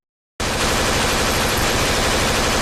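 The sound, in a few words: burst of gunfire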